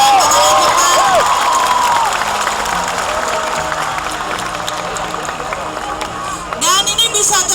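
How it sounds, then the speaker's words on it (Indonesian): A large crowd at an outdoor Mata Najwa on Stage event in Jember breaks into applause and cheering, a dense wash of clapping mixed with shouts and whistles that fades a little over several seconds, with a voice on a loudspeaker at the start. "Tepuk tangan buat anak Jember."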